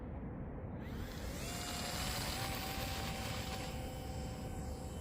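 BM30 Micro Twin 30mm EDF model airliner with electric ducted fans whining steadily, a continuous high-pitched rushing hum that rises slightly in pitch, moderately loud with no talk.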